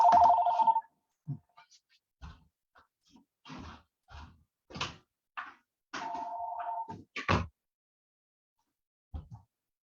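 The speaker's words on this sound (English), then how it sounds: "It's an old-fashioned landline, and I have not figured out how to shut it off" An old-fashioned landline telephone ringing at a press conference, two rings a few seconds apart, with someone talking and breathing faintly between and after them.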